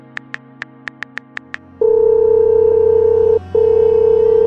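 Eight quick dial-button beeps sound, followed by a steady, loud telephone tone on an outgoing call, briefly cut by a short gap before resuming.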